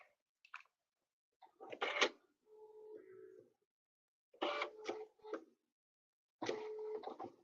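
A quilting machine locks its threads in place, giving short bursts of mechanical buzzing and whirring separated by silence, fairly close and quiet, with no voices.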